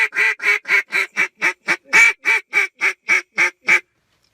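A rapid, even series of about fifteen loud quacks blown through the front of a duck call, close and evenly spaced, then silence.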